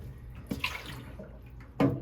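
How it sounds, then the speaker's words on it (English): Bath water draining from a dog bathtub after a lizard's bath, quiet gurgles and splashy bursts, with a louder slosh near the end, no talking. "we're going to start letting the water out"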